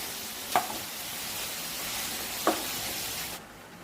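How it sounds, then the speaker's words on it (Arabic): A pan of peppers mixed with offal sizzles steadily, with two sharp scraping knocks from a spoon stirring the mixture, close up and without talk. "هقلب بقى كله مع بعضه كده عشان انا مش عايزه برده الفلفل يستوي"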